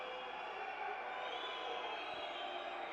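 A large arena crowd at a European judo championship in Kazan voices displeasure at a penalty, a steady, distant roar of many voices that holds throughout.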